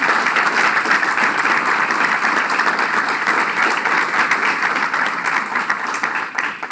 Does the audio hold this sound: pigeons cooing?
no